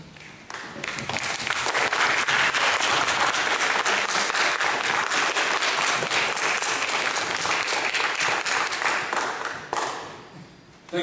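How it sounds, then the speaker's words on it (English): Loud, sustained applause from a debate audience, many hands clapping in a thick continuous roar that swells quickly, holds for about ten seconds, then thins out near the end. "Thank you very much for all this applause."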